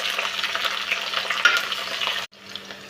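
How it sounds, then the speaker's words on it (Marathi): Sliced garlic and green chilies in a spoonful of hot oil in a kadai give a steady, close, bright sizzle that drops sharply near the end to a quieter hiss. "कापलेला लसूण तळत आलेला आहे। आता मिरची टाकून घेऊ।"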